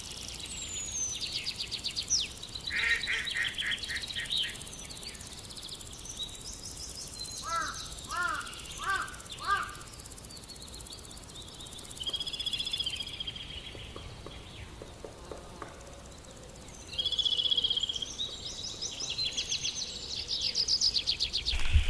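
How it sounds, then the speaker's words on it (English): A kookaburra perched in a tree at a Murray River campsite in South Australia gives several bursts of harsh, cackling calls at moderate distance, with other birds and insects faintly behind and no talk. "So I've got this kookaburra sitting in the tree there"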